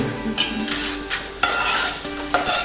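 Pitha batter poured into a hot wok, bursts of loud sizzling and scraping that rise and fall in several waves, close and clear with no talking.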